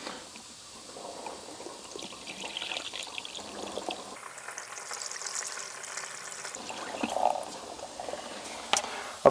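Antifreeze poured into the drain of a 2024 Winnebago Travato 59KL camper van during winterizing, a faint, uneven trickle and gurgle of liquid running down the drain for several seconds.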